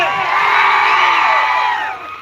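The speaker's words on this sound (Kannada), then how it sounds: "ಬರ್ಲಿ ಜೋರ ಚಪ್ಪಾಳೆ" Loud crowd cheering and clapping at a live event in Bijapur, a sustained roar of many voices with whoops, swelling then easing toward the end.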